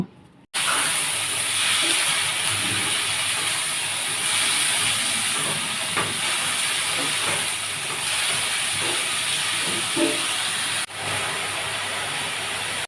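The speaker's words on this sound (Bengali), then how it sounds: "আগে থেকে ভিজিয়ে ধুয়ে রাখা মুসুর ডালগুলোকে দিয়ে বেশ কিছুক্ষণ ভেজে নেব" Soaked, washed masoor lentils fry with browned onions in a pan, making a loud, continuous hiss that starts abruptly and carries soft scraping stir strokes throughout.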